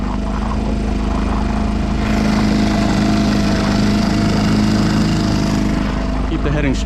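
Outboard motor on a small trailable sailboat, a loud steady droning engine hum with a rough mechanical rattle, running continuously close by without any speech.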